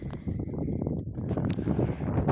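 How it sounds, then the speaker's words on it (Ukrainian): Strong wind gusting across a shell-damaged house roof under repair, a steady loud roar with rustling buffets, close to the microphone and continuous throughout. "не можу знімати, бо вітер дує, мабуть, нічого не чутне"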